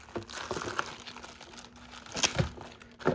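Crinkling plastic wrappers of 1989 SportFlics baseball card rack packs, close up and crisp, in irregular bursts of rustling with a few sharper crackles, no voices.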